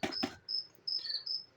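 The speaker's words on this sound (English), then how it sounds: "how cool it is having a symphony of crickets singing to each other here in the basement" Crickets chirping in a basement: repeated high, thin trills, near and steady, following a couple of brief bumps at the start with no talking.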